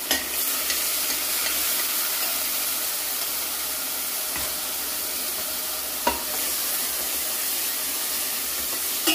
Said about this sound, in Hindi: तो हम प्याज अच्छे से ये पेस्ट अच्छे से भून लेते हैं